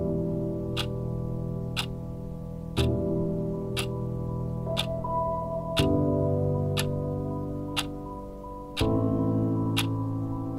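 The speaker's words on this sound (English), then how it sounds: "With the same monotonous ticking sound that goes on through seconds and minutes and hours and days." Clock ticking monotonously, crisp evenly spaced ticks about once a second, a steady beat over sustained, shifting background music chords.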